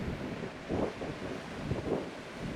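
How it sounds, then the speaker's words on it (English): Wind buffets a microphone on the California coast along Highway 1, a steady, close, rumbling roar that swells in gusts and fills the whole clip, with no voices. "I'm not even sure you can hear me with the wind"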